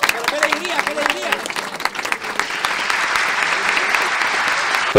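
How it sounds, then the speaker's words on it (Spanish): Loud applause from a studio audience on a Spanish entertainment show, dense steady clapping that fills the whole stretch, with a voice speaking over the start before the clapping takes over. "Un aplauso para este señor."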